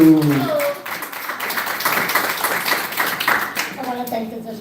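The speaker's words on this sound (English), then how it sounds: "Ladies and gentlemen, give a round of applause for Marisa Marino." An audience claps at a Brooklyn civil court judicial candidates forum, a rapid patter of hands rising and falling, with voices speaking at the start and end.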